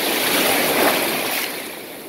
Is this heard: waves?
yes